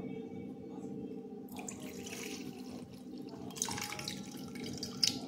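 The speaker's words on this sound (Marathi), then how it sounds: "आता हे एका भांड्यामध्ये आपण पाणी काढून घेऊया" Soaking water from sago pearls for Kolhapuri-style sabudana khichdi is poured off into a vessel. Faint trickling and splashing come in two short bursts over a low background hum.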